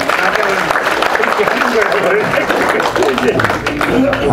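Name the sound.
audience applause at commemoration event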